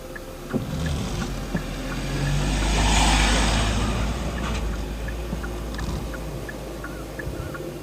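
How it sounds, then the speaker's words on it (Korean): A tractor approaches across a storm-flattened rice paddy in Geochang County, a rising engine drone that swells to a peak midway and then eases, with wind and outdoor noise, heard alone. "드디어 트랙터가 옵니다."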